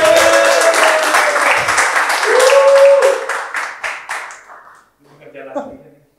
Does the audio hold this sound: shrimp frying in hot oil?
no